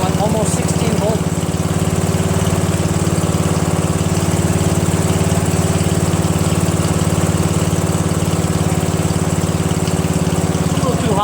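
A Murray 14.5 hp 42-inch widebody lawn tractor engine runs steadily at its lowest throttle, a loud, close, even idle with a constant low drone and faint vibration throughout.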